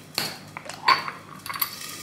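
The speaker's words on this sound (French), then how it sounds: "Désolée pour le bruit, c'est la poêle." A frying pan and metal utensils clink and clatter during cooking, a few sharp close metallic knocks and rattles spread over two seconds, with no talk.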